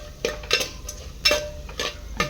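Tempering for dal sizzles in a hot pan with oil and spices, a soft continuous fry broken by a few sharp stirring clinks, close and quiet, with no talking.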